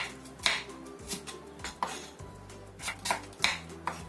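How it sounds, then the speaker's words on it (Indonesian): Knife slicing shallots thinly on a cutting board for a curry, with about a dozen sharp, irregular taps and scrapes close by and no talking. "Kita iris tipis saja bawang merahnya"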